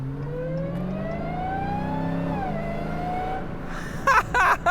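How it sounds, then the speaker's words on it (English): A Dodge Challenger SRT Demon 170 with a Hemi V8 revs and accelerates from inside the cabin, its loud exhaust rising steadily in pitch, dipping briefly at a shift, then climbing again before a few sharp bursts near the end. "Let me roll up the right window a little bit so we can hear more of the exhaust noise from the left-hand side without wind."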